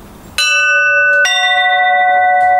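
Two quiet practice bells made from pipe fittings strike in succession, each ringing out with a bright, sustained metallic tone that lingers close and loud.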